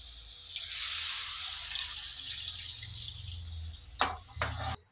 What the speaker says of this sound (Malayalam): ഇനി നമുക്ക് തേങ്ങാപ്പാൽ ഒഴിക്കാം